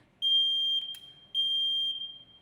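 Two loud, piercing electronic beeps from a smoke alarm, each lasting about half a second, with a short gap between them.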